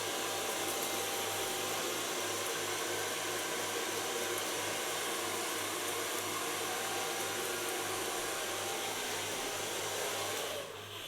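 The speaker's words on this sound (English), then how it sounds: "For so far blow drying" A hair dryer runs steadily throughout while blow-drying hair at a hair styling session, a constant airy whoosh with a low hum, alone and fairly quiet, cutting off near the end.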